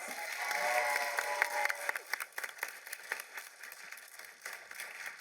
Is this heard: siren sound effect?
no